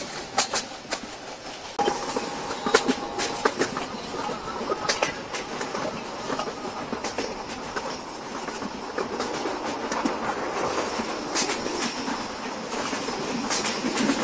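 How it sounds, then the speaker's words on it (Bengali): Rupsha Express intercity train pulling into Kotchandpur railway station, a steady rumble of wheels and carriages with rhythmic clicking and brief metallic squeals, loud and close throughout. "রূপসা এক্সপ্রেস ট্রেনটি 98 কিলোমিটার যাত্রাপথ অতিক্রম করে কোটচাঁদপুর রেলওয়ে স্টেশনে প্রবেশ করছে আন্তনগর রূপসা এক্সপ্রেস"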